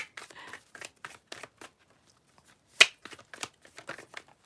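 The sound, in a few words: shuffling tarot cards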